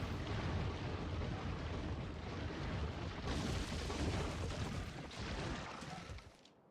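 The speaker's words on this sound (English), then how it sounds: "The power of Mark V turrets." Mark V turrets fire in a Factorio battle, a dense continuous roar of booming, explosive rumbles that holds steady for several seconds before tapering away at the end, with no speech over it.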